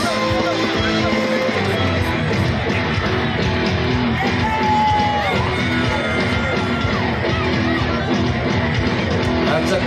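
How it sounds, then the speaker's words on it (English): Students at a school interhouse tug of war cheer and yell continuously, a dense roar of young voices close and loud with shouts rising over it throughout. "Yes, cheer for your house, all the boys there."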